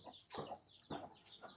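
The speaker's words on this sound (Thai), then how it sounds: "นี่เป็นขอกไก่เลี้ยงไก่ไว้เพื่อกิน" Chickens in a village coop kept for eating, in an Akha hill village in Laos, give short, soft clucks in a few quick bursts, close but quiet, with no talk.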